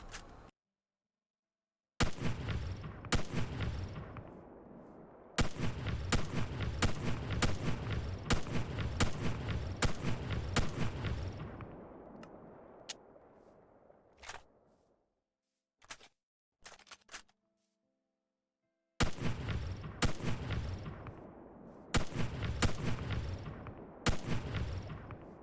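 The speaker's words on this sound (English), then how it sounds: "I like the sound of this rifle." Rifle fire from a Modern Warfare mod, heard as loud, close bursts of rapid shots. Several volleys arrive with short gaps between them, and a couple of isolated cracks sit in the quieter middle stretch.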